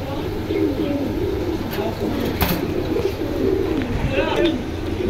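Pigeons coo in a busy Keraniganj bazaar pigeon market near a Lotan pigeon pair, soft repeated throaty coos rising over crowd chatter and someone talking nearby.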